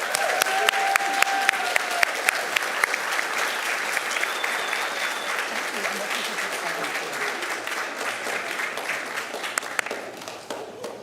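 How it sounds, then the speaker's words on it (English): An audience at a school board meeting gives a long round of applause for an honoree as her family and friends stand, a dense, steady clapping that gradually thins toward the end. "let's go ahead and give Kaylin a round of applause"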